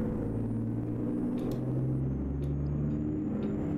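A Blue Bird school bus cruising down a highway in American Truck Simulator, a steady low engine drone and road rumble with no breaks, close and even throughout.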